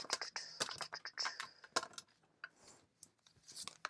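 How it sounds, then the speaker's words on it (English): A deck of tarot cards is shuffled and cut by hand, giving quick papery riffles, flicks and taps in irregular bursts, close and fairly quiet. "Last shuffle, cutting the deck."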